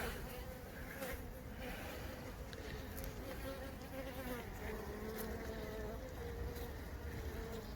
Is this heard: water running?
no